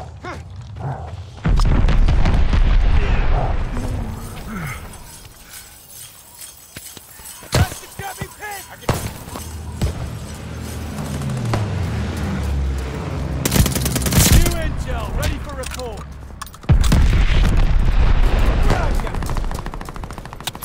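Bombs exploding in a Call of Duty Vanguard multiplayer match on the Demyansk map: heavy booming blasts, one early and another near the end, with scattered gunfire, shattering debris and voices in between.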